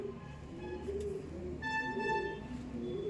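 Home-bred tournament racing pigeons coo in a loft in a low, steady murmur from several birds, with faint chirps and background hum throughout.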